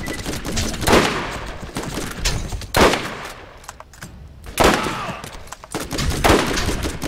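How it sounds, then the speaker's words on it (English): Machine gun bursts crack out in short repeated volleys during Borderlands combat in arid hills, with separate loud clusters spaced by brief quieter gaps. "they hit an awful lot from that distance with machine guns."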